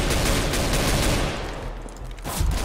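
Rapid gunfire in the shooter game CS:GO, a dense burst of shots that thins out briefly before another volley, loud and close with no talk over it.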